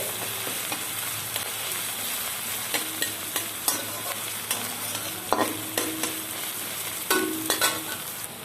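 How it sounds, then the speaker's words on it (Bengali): Garlic paste frying with browned onions in a pan for chicken curry, a steady close sizzle with frequent scraping stirs and utensil knocks against the pan, no talking. "রসুন আমি ভালো করে ভেজে নিচ্ছি"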